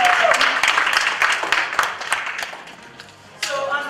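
An audience applauds for the assistant director of the West African Research Association at a panel event on Black and African identities, with a dense, sustained wash of clapping that fades before a brief burst at the end.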